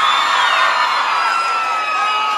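A crowd cheers and whoops at a cumbia concert, a steady bright roar of voices holding for a couple of seconds, loud and continuous with no clear pauses.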